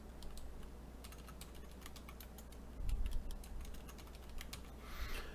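Password being typed on a computer keyboard during setup of a DRIVESTOR 2 Pro NAS, a quick irregular run of close, crisp key clicks over a low background hum, no talking.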